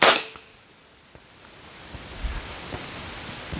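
One sharp, fairly loud airgun shot through a 3D printed suppressor cracks at the start and decays quickly, leaving faint background hiss and a few small ticks, with no talking.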